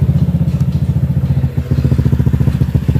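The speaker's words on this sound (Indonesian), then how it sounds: "aku pakai kamera HP buat cek sound knalpotku ini guys ya, biar suaranya lebih jelas gitu" A motorcycle with an 11-month-old, worn STD racing exhaust idles close by, giving a loud, steady, rapid chugging pulse with one brief dip partway through and no talking.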